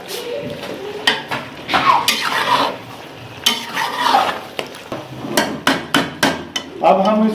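Palak gosht being stirred and roasted in a pot, a spoon knocking and scraping against the metal in repeated, uneven strokes over a soft sizzle, close and fairly loud, with no talk.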